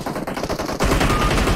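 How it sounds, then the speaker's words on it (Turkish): Gunfire in PUBG Mobile crackles close and dense, with rapid shots that swell into a louder, continuous burst halfway through. "Yok lan biri sıkıyor Erdem"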